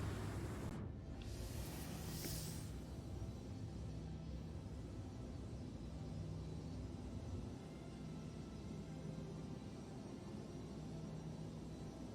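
A MISC Razor EX spacecraft sets down in Star Citizen, a steady low engine rumble and hiss holding throughout, with a brief whooshing burst near the start and no voices.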